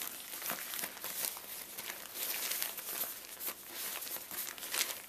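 An Adventure Medical Kits SOL thermal bivvy made of thin foil crinkles continuously as it is folded up. The crackling is close and steady, with brisk bursts of rustle and no voices.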